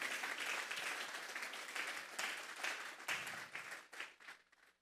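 A church congregation applauds together, a dense, steady wash of clapping that fills the room for a few seconds before thinning out and fading to a few last claps.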